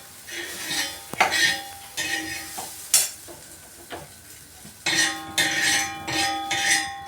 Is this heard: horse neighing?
no